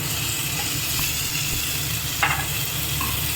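Potato masala sizzles in a pan as chopped tomato goes in, a constant close frying hiss with a short burst of stirring or clatter partway through and no one speaking.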